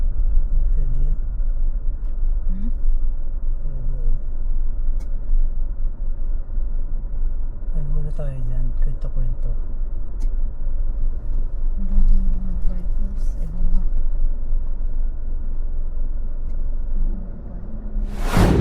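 A car rolls slowly along at Canlubang, Laguna, hunting for a parking space near a mansion, its steady low engine rumble and road noise continuous and close throughout, ending in a brief loud rushing burst.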